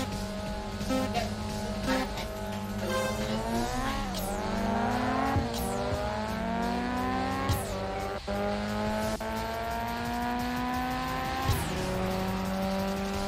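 Racing video game battle against an Evo 5 in Street Supremacy on PSP, with steady, loud engine drone that rises and falls through gear changes and repeated tire squeals as the cars corner, continuous throughout with no talk.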